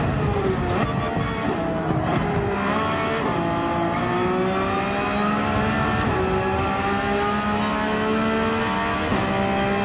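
A race car engine screams at full throttle in Gran Turismo 7 at Monza, the pitch climbing and dropping through gear changes. Loud and continuous, with a brief tire squeal.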